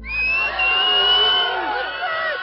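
A crowd outside a French criminal court shouts, whoops and jeers in a loud, continuous mass of voices, with one shrill cry held over the din as a convicted woman leaves the courthouse.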